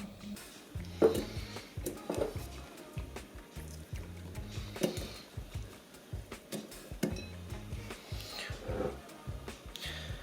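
Sliced onion is moved into a glass jar, giving soft, irregular clinks, taps and moist squishing handling noises at close range, repeated over several seconds without speech.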